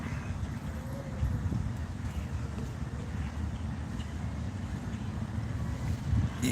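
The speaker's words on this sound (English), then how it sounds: "It's a little windy today" Steady low rumbling wind buffeting the microphone, continuous and fairly loud throughout, with no voices.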